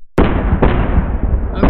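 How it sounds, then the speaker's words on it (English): A laser shot in The Henry Stickmin Collection video game, a loud, close, sustained burst with a sharp onset that crackles for over a second, ending in another abrupt hit. "Very accurate laser shot."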